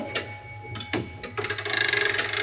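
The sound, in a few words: winding a mechanical clock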